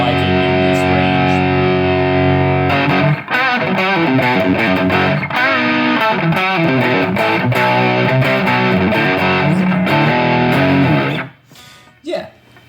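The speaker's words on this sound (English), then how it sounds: "the distortion is interesting. So that was at max." Electric guitar played through a Behringer TO800 Vintage Tube Overdrive pedal with the drive turned to maximum, giving loud, continuous distorted chords and riffs for about eleven seconds before cutting off to near silence.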